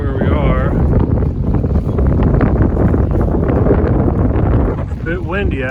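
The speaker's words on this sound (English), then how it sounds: "so I hope this microphone is not picking up all this wind." Steady, loud wind buffeting the microphone with low rumbling gusts throughout, a voice talking faintly beneath it.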